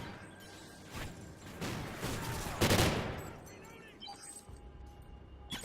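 Video game gunfire in Call of Duty: Ghosts, a loud burst of blasts and crackling fire in the middle of busy game noise, with someone talking.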